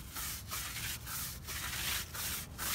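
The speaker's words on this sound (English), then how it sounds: "I'm going to first use the same brush that I use on the carpet and just scrub the tire" A stiff carpet brush scrubs a car tire in rhythmic back-and-forth strokes, roughly five passes, each a broad abrasive rasp with brief pauses between, close and loud with no talking.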